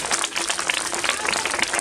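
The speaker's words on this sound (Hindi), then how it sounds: "तो जोरदार तालियां बजाइए एक बार" Audience applause at an outdoor Indian street play about girls' education, a short burst of brisk, moderately loud crowd clapping heard alone.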